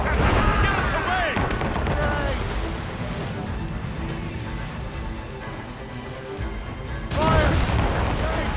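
Ship cannons fire in a naval battle in Assassin's Creed Rogue, a dense, continuous roar of booms and blasts with heavier bursts at the start and end, loud and up close, with shouting voices over it.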